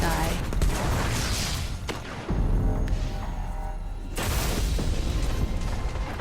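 Grenade blast and surrounding gunfire in the video game Titanfall, a heavy boom landing midway through continuous rumbling battle noise and scattered shots, loud and fairly close.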